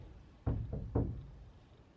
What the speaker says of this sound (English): No, look, let's test it. See the knocking.